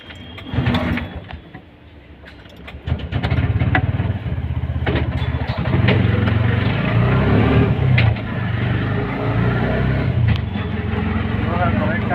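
A Bajaj auto rickshaw engine runs on a test drive after a gear adjustment, a loud, close, steady buzzing drone with a few knocks and rattles, while someone talks briefly near the start.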